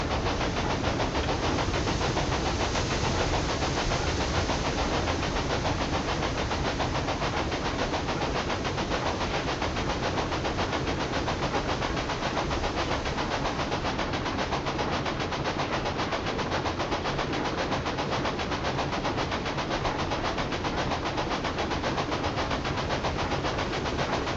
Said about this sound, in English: This train is fast, so eventually I will catch up anyway.